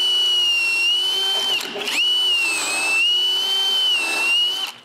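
A power drill bores dowel holes through a doweling jig to reinforce a glued wooden joint on a shop chest of drawers, giving a steady, loud, high motor whine that dips briefly a few times as the bit bites into the wood.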